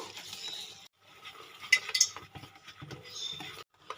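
Gram flour batter whisked in a bowl, giving soft, wet stirring and scraping with a few sharper clinks against the bowl, close up, with brief pauses between strokes.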